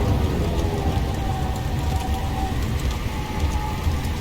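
Steady rain falls in Subnautica: Below Zero, a constant broadband hiss of drops on surfaces with a faint tonal hum underneath and no voices.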